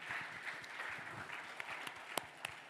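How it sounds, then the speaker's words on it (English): A church congregation applauds as a soft, steady patter of many hands, fairly distant and quiet, with a few sharper single claps standing out near the end. "Give yourselves a round of applause."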